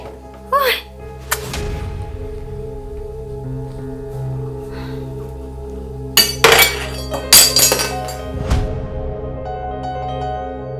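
Dishes and spoons clink and clatter while being washed at home, a few sharp scattered knocks and rattles near the microphone with quiet gaps between them.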